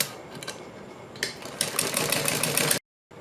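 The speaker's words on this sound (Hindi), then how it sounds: "और इसके बाद सेम तरीके से इसके ऊपर हम सिलाई लगाते चले जाएंगे" A sewing machine stitching salwar fabric, running in short bursts that build into a steady rapid whirring, stopping abruptly, then starting again briefly; close and fairly loud.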